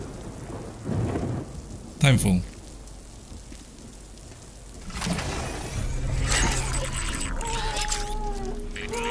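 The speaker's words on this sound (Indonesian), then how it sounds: "Ini buktinya hujan." Rain in the video game Death Stranding, a soft wash of falling rain with a sharp thunder crack early on, then rising patter mixed with game sounds and a brief spoken word.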